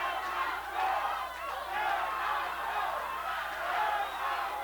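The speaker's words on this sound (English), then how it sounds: "The crowd with a chant of Fernando, trying to get their young man going here" A boxing crowd at an amateur bout chants a fighter's name, a dense steady roar of many voices rising and falling in rhythm, loud and continuous throughout.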